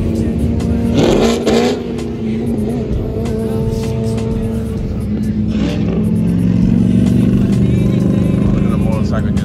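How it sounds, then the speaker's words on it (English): Street traffic with cars and a motorcycle cruising past, a continuous engine rumble with rising revs, heard under nearby talk and crowd babble. "Look at the motorcycle just cruising."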